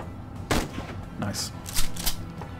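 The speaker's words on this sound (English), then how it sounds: "Point blank shot, shotty shot" A point-blank shotgun blast in the video game Shadowrun Chronicles, a sharp loud shot followed by several quicker bursts of gunfire, with a voice talking underneath.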